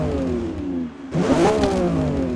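A Lamborghini Revuelto's engine revs in the Forza Motorsport video game. The note drops briefly, then climbs back up in a loud, rising roar with harmonic whine, close and with no voices over it.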